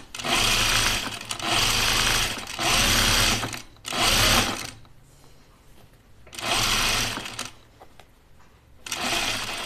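A sewing machine stitches an understitch on a shirt in loud, close bursts of rapid mechanical whirring, several runs of a second or two broken by short pauses.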